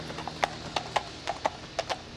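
Horse hooves clip-clop in a steady, fairly quiet rhythm of about a dozen light strikes, heard alone without talk.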